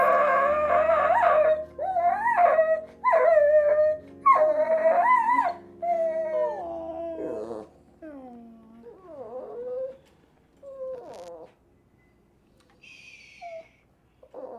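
A puppy whimpers and whines in a string of high, wavering cries, loud and close at first, then fading into softer, sparser whimpers with short pauses between them.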